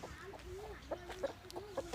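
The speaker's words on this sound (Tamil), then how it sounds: "இதுதான் நம்ம வெடக்கோழிங்க" Young hens on a rooster-breeding farm clucking in short, separate bursts over a steady low background hum, fairly close and moderately loud.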